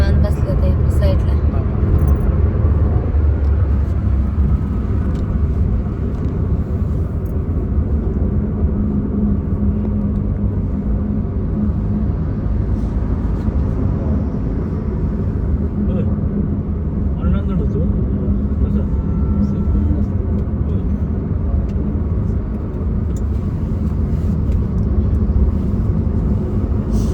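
Steady low road rumble inside a car travelling on a highway, a constant droning hum throughout with people talking over it.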